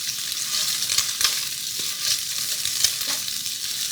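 Eggs sizzling in a Caraway nonstick ceramic pan, a steady close hiss of frying with a few light scrapes and clicks of stirring, no voices.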